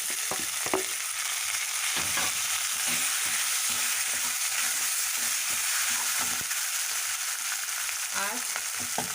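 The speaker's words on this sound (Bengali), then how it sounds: "দেখুন আমার মশলাগুলো ভাজা ভাজা হয়ে এসছে" Spices with chopped ginger and green chilli fry in a pan for a banana-flower chop, giving a steady close sizzle with scattered stirring clicks and scrapes, no voices.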